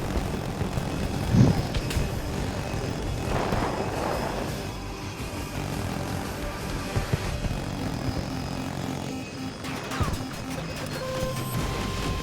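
Aircraft engine roar from a jet in the Battlefield 2042 shooter, a loud continuous drone with a brief crash-like burst early on, heard amid game noise.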